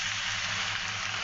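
Mutton pieces sizzling and frying in a pan over fried onions, with a steady dense hiss and crackle that stays loud and continuous throughout, no voices.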